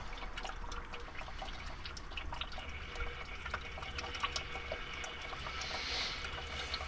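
Fluid drips steadily from a leak on a Kubota KX033-4 compact excavator during its 1000-hour service, a faint continuous trickle with scattered small drops over a low background hum.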